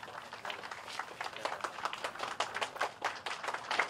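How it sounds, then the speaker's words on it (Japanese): City staff gathered at city hall clap to greet the mayor on his first day in office, a lively, uneven patter of many hands at close range, swelling and dipping in loudness. "東川市長は集まった市職員から拍手で迎えられ"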